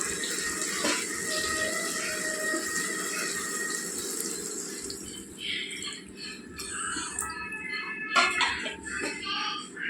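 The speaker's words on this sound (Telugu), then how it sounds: "ఒక గ్లాసున్నర వేసానండి నేను నీళ్ళు" About one and a half glasses of water are poured into a boneless chicken curry cooking in oil, a steady splashing pour that gives way to sizzling and stirring clatter.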